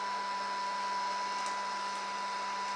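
A heat gun warms vinyl wrap on a mirror, giving a steady, even whooshing blow with a constant whine, close and moderately loud, with no talking.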